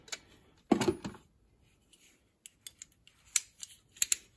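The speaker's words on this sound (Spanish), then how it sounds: "junto con una matraca antigua." An antique ratchet wrench from a secondhand Craftsman toolbox clicks, a burst of handling noise followed by a series of small, sharp, evenly spaced metallic ticks close by.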